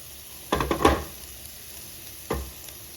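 Chopped banana flower for a cutlet mix dropped into a hot pan and stirred, giving a short burst of scraping, sizzling stirs, a pause, then one more stir against a low background hiss.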